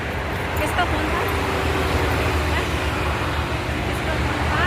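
Road traffic rumbling past near a roadside gathering in India, a steady, close engine drone with a passing vehicle, mixed with babble from people nearby talking over it.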